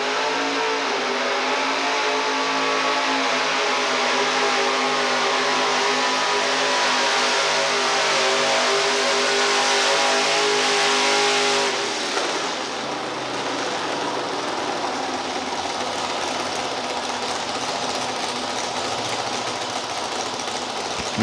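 A modified pulling truck, the Footloose Truck, at an outlaw truck pull in Murray, Kentucky, 1987, roars at sustained high revs as it pulls the sled, loud and steady, then the pitch shifts and drops slightly about midway with the engine still hard at work.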